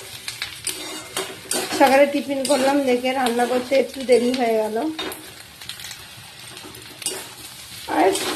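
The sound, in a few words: taro and soybean being stir-fried in a pan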